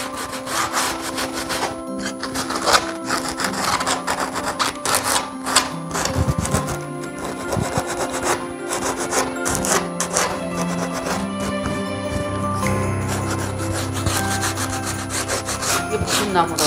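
Sandpaper rubs steadily by hand over a domestic birch wood spatula, close and loud, with continuous rasping back-and-forth strokes knocking down sharp edges and rough marks for about seventeen seconds.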